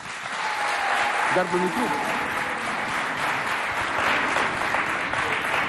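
A school debate audience applauds warmly, a broad continuous wash of many hands clapping in a hall, while a voice briefly speaks over it near the start.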